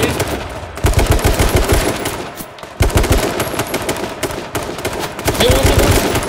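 Rapid bursts of automatic gunfire from a tactical shooter video game, loud and close, rattling in repeated volleys across the whole stretch with brief pauses between them.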